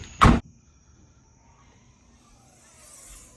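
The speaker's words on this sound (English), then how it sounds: "sometimes it's as simple as just shutting a door." A van door shuts with one sharp, loud slam right at the start, followed by quiet low rumble and faint hiss.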